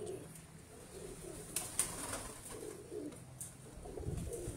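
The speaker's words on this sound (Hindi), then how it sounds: "ये अली वाला कबूतर है।" A pigeon coos softly at a moderate distance over a steady outdoor background hum, with a few faint higher bird calls mixed in.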